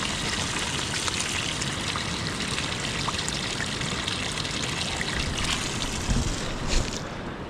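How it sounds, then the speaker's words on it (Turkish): A steady, close rush of cold spring water trickles and splashes high in the Tien Shan mountains of Kyrgyzstan, a continuous, even wash of flowing water with no voices. "Su kaynağımız da var."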